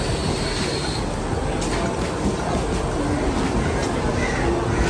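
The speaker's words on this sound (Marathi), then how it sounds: "तर आली ट्रेन पकडतो ट्रेन पकडतो" A suburban train rumbling into a station and slowing, low steady roar with metallic squeals and clanks, a faint voice briefly audible under the noise.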